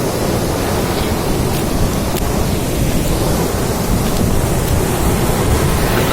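Heavy surf pounds Nandgaon beach on the Konkan coast, an unbroken loud roar of churning waves mixed with gusty wind noise, with no one speaking.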